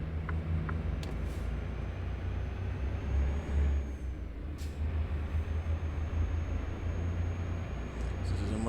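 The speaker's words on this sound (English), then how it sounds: "This is a much quieter truck, that's for damn sure." A heavy truck fitted with air brakes passes on a road in Socorro, New Mexico, giving a loud, steady diesel rumble throughout with sharp hissing bursts of released air, and faint voices underneath.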